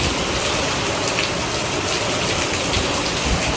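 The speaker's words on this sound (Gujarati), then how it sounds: "કંઈક અલગ જ લેવલનો વરસાદ ચાલુ અત્યારે જો." Heavy rain pours in a dense, constant roar, close and loud without a break.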